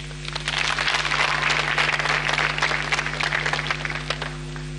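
Sustained applause from a large crowd during vote counting in Kenya's 2022 general election, a dense steady wash of clapping with a low hum underneath, lasting a few seconds.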